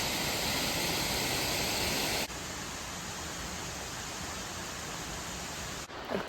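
Constant rushing water fills the scene, a dense hiss-like flow without pause, loud and close with no voices.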